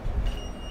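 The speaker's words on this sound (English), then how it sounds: "Now I'm going to disarm the alarm panel." Wireless Wisen RFID alarm keypad beeping as it disarms an X10 burglar alarm panel, a short tonal beep over low background rumble.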